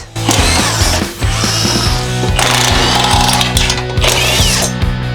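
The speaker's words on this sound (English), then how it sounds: "And now we can deassemble our old headlight." A ratchet clicks in fast repeated bursts while an old headlight is unbolted from a turbocharged Honda Civic, with loud close metallic pawl clatter and no talking.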